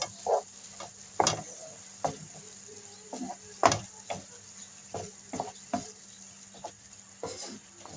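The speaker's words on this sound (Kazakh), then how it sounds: "Лимонный перец. Қара бұрыш. Тұз. Араластырып аламыз." Lemon pepper, black pepper and salt are stirred into an orange sauce for duck legs: soft, irregular scraping and tapping strokes, quiet and close, with a faint sizzle between them.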